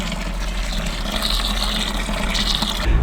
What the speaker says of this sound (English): Let's get some water in here then.